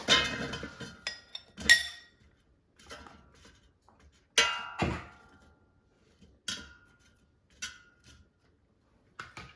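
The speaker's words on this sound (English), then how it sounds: "And put the air fryer basket in the air fryer." Air fryer basket being handled and slid into an air fryer loaded with jalapeños, a series of sparse light clicks and clinks in quiet surroundings.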